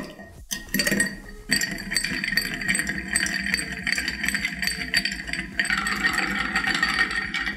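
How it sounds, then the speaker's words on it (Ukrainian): Ice stirred in a mixing glass for a chocolate-bitters Negroni, a steady stream of close, bright clinks and rattles against the glass running throughout with no talk. "Додаю лід та стірую."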